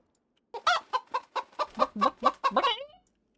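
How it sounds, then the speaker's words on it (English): Chicken in the dinosaur park game Prehistoric Kingdom, a run of about ten quick, close, rhythmic clucks that rise into a short squawking flourish toward the end. "there's the chicken"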